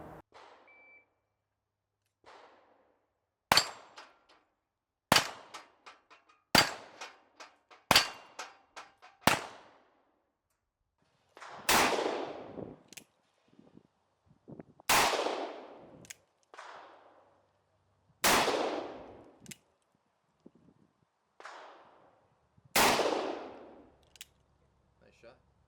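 Uberti 1873 revolver fired in a string of sharp, loud shots, first in quick succession and then spaced out with long ringing decays trailing each report.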